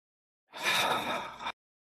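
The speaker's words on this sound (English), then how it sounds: "Now go ahead and take a breath." A single long, breathy inhalation, close and clear, lasting about a second during a guided meditation, rising softly and ending abruptly, with silence around it.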